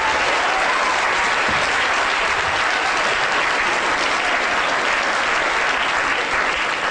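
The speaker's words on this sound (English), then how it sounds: "Round of applause." Lecture audience gives a loud, dense round of applause after a brain demonstration on stage, many hands clapping steadily and continuously with no talk over it.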